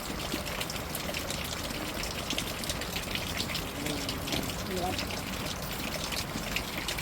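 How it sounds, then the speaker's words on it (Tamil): Water drains steadily from cooked rice in a pot tipped on its side, a soft continuous trickle and gush heard faintly under background murmur. "சோத்தை கவுத்தி விட்டுருக்கேன், அது பாட்டுல தண்ணி வடிஞ்சிட்டு இருக்கோம்"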